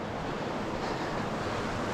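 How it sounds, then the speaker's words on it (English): The Fremont River in Capitol Reef National Park, Utah, rushes in a steady, broad wash of flowing water, constant and unbroken, with some wind noise over it and no voices. "I believe this is the Fremont River."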